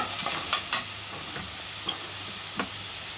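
Raw meat goes into a hot pan on a home stove and sizzles steadily, while a few sharp clinks and scrapes of a utensil against the pan stand out near the start.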